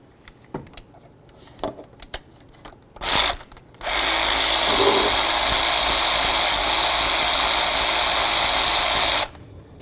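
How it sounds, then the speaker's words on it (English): A power tool with a T45 Torx bit removes the idler pulley mounting bolt on a 2003-2009 Mercedes E320, starting with a short burst and then a loud, steady whir of about six seconds, after a few light clinks of metal. "next we're going to use a T45 to remove this mounting bolt"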